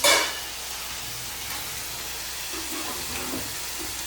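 Hot oil sizzles steadily in a pan as masala with turmeric fries for a Kolhapuri mutton curry, a close, continuous hiss after a brief louder burst at the start, with faint stirring knocks.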